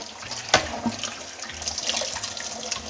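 Tap water runs steadily while a juicer part is rinsed under it, with a sharp clack of the part against the sink early on and a low splashing wash continuing to the end.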